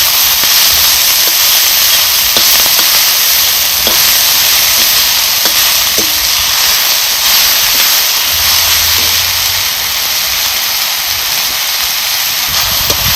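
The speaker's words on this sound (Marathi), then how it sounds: "ही भाजी टाकून घ्यायची त्याच्यात चांगली एकजीव करून परतून घ्यायची" Giloy (gulvel) leaf bhaji sizzles steadily as it is stir-fried in a pan with cumin, with a constant loud hiss and occasional faint scraping of the spatula.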